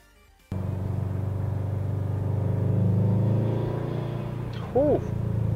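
A Subaru WRX STI with a Cobb Accessport tune starts up abruptly into a steady, loud idle rumble, with a faint turbo spool whine rising briefly near the end.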